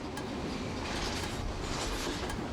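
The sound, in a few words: train on rails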